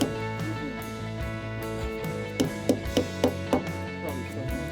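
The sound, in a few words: hammering pin into drilled hole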